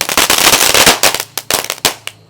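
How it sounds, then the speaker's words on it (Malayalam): A Lakshmi firecracker set off at a Diwali celebration, heard up close as a loud volley of sharp bangs that come in a dense burst and then space out into a few last separate cracks. "അടുത്തതായിട്ട് നമ്മൾ കത്തിക്കാൻ പോകുന്നത് ചെറുപറ പൊട്ടുന്ന സാധനം"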